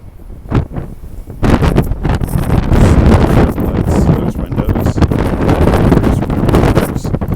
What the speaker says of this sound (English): Hopefully you can hear this, it's really windy.